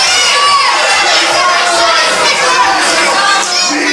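A packed wrestling crowd jeers and shouts at Louis Basham, with high-pitched voices from children mixed into a loud, continuous roar of cheering and yelling.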